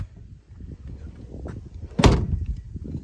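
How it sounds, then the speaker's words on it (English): A Studebaker car door swings shut with one solid thump near the two-second mark, set against low background rumble and handling noise. "Door shuts good"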